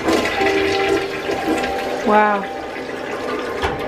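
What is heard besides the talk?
toilet flushing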